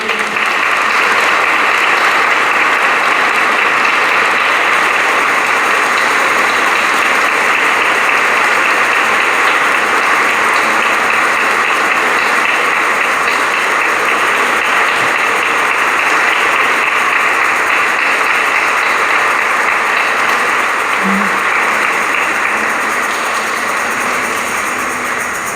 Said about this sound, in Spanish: Le damos un aplauso a Jesús de la Misericordia.